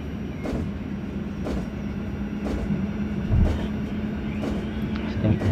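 A modernized EN57 electric multiple unit accelerates in the MaSzyna train simulator game, with a steady motor hum and rolling rumble punctuated by periodic rail clicks, fairly close and continuous.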